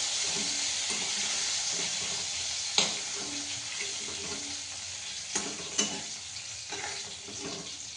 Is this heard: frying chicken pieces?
yes